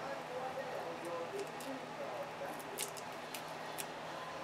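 A few quick, sharp snips of non-stick scissors cutting through paper near the microphone, over a steady background hiss.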